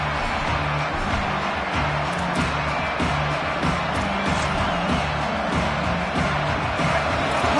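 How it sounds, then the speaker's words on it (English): A college football playoff stadium crowd roars steadily early in the game, a dense, continuous wall of cheering and noise with no breaks, loud and enveloping. "Listen to the crowd energy here in the early going."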